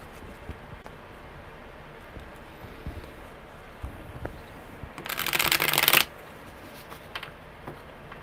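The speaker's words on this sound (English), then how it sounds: "One more good shuffle, because that first one sucked." Tarot cards being riffled, a dense papery whir lasting about a second, preceded by scattered light taps and card handling in a quiet room.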